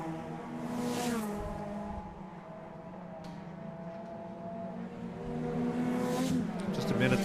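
Race cars in an ICCR round rumble past on a circuit, their engines droning and revving at moderate distance, swelling as cars approach, while a commentator talks over the racing throughout.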